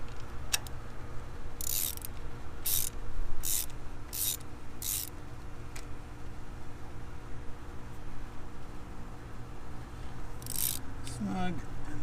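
A ratchet tightens a spark plug on a Lexus ES300h hybrid, giving short bursts of clicking spaced out over steady background noise, close and moderately loud, with no talk.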